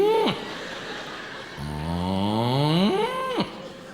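A man imitating a cow with a long, loud, drawn-out vocal moo that rises in pitch near its end, set between short laughs or breaths.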